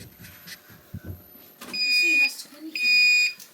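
Two steady high-pitched electronic beeps from a heat press timer alarm sound in sequence, each about half a second long, after some soft handling noises.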